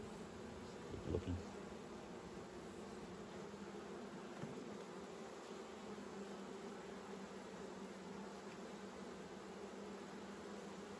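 Honeybees from a weak, apparently queenless hive buzz as a faint, steady drone close by for about eleven seconds, with a brief bump of handling noise near the start.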